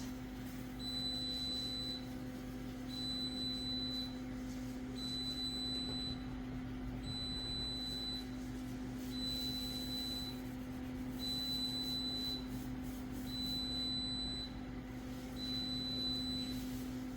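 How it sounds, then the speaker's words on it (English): A control panel beeping after getting wet: evenly spaced electronic beeps repeat roughly every second and a half for the whole stretch, over a steady low mechanical hum. "it's going to beep at me because when the control panel gets wet,"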